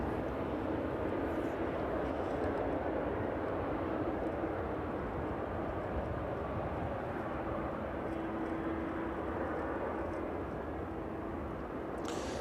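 A Boeing 777 airliner taxis toward runway 27 at East Midlands Airport in the evening, its engines giving a steady, broad rumble with a faint tonal whine that holds without a break throughout.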